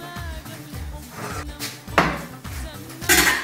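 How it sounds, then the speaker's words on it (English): A cooking pot is handled on a home stove while Moroccan chicken is prepared, giving several close metallic clanks and scrapes at an uneven pace over a low background hum. "Now we need a kettle."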